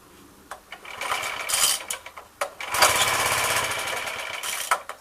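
A Suffolk lawnmower engine with suspected carburettor trouble, needing choke, is cranked in several sharp mechanical bursts that briefly catch into a rough, uneven run before faltering, close by with no talk.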